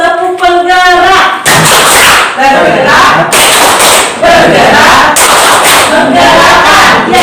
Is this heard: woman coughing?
no